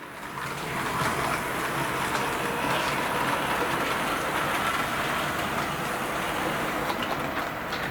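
Model train locomotives, a Royal Hudson steam model and a diesel, running together on a DCC-controlled layout, giving a steady, faint whirring and rolling rumble with soft clicking that carries on without pause.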